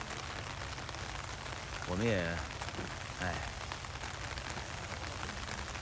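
Rain falling steadily on a farm, as a soft, even hiss that continues throughout, with brief speech partway through.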